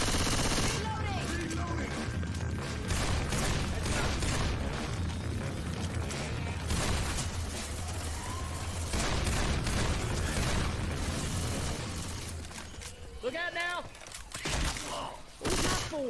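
Rapid gunfire bursts from Left 4 Dead 2 fill the scene almost without pause, dense and loud, with game effects layered in and voices talking over the shooting.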